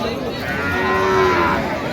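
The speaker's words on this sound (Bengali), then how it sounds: "বেটা বাচ্চা বেশ সুন্দর গাভী বাছুর" A single drawn-out cow moo rises and fades, close and fairly loud, against the steady murmur of a busy livestock market where a cow is being sold with her calf.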